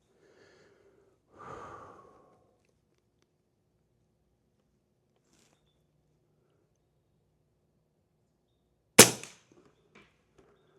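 An Avenge X air rifle fires a single pellet, a sharp loud crack near the end that decays quickly, following a long near-silent stretch with a brief breathy noise early on.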